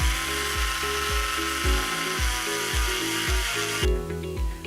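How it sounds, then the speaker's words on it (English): A Ryobi rotary tool fitted with a wire wheel strips the last paint from a Bridgeport mill gear housing: a close, loud motor whine with rhythmic pulsing bites as the wheel catches the metal, running continuously. "I'm using a wire wheel on my Ryobi tool to get the last of the paint out."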